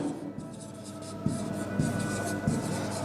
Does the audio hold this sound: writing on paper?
yes